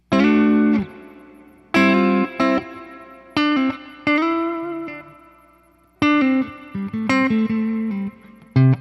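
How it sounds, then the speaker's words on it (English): An electric guitar through a CopperSound Daedalus pedal's plate reverb plays short chords and single notes in bursts, each followed by a smooth, lingering reverb tail that fades out. "not a spring reverb, it's more of like a plate reverb"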